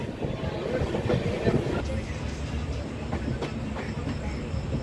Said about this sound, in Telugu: సో కేసముద్రం స్టేషన్ నుండి అయితే మన ట్రైన్ అయితే బయలుదేరిపోయింది